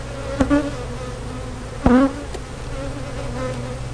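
Honey bees buzzing at an open nuc hive, a steady close hum with a couple of louder passes as individual bees fly near, no talking.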